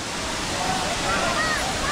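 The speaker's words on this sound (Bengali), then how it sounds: "এই হলো ঝর্ণা" Moti Jharna waterfall in Jharkhand, where people bathe below it, gives off a continuous broadband rush of falling water, loud and close, with faint voices mixed in.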